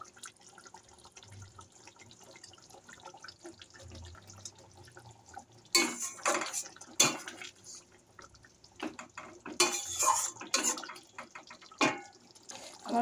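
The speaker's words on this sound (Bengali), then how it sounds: "মাছের উপর দিয়ে আমি একটুখানি কাঁচা সর্ষের তেল দিয়ে দেবো।" Raw mustard oil drizzled over a mustard-poppy fish curry simmering in a pan: soft bubbling at first, then louder bursts of spluttering liquid sizzle close by, with no voices.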